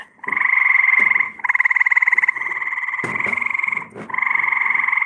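Loud frogs croaking near a pool, a dense, continuous rapid trilling chorus in long sustained bursts with short breaks, close and dominant with no talk.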